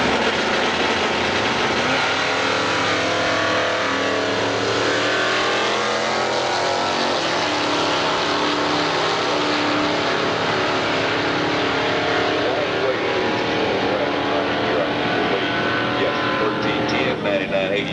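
A 1966 Chevelle and a 1967 Chevy drag racing make loud, sustained engine roars and revving throughout, with an announcer talking over the cars.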